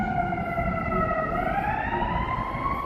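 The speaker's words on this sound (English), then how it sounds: "Sirens. Got an ambulance going across there." An ambulance siren wails loudly and steadily as it crosses ahead in downtown Chicago near the riverwalk, its rising and falling tones sliding upward partway through over continuous city traffic rumble.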